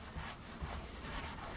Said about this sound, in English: Now I'm just wiping off the alcohol with a towel that's just moistened damp.